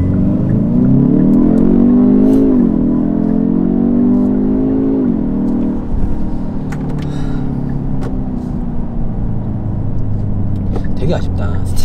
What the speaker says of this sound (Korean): 스포츠 모드 놓고 VDC 껐는데 자, 브레이크 끝까지 밟고 악셀 끝까지 밟습니다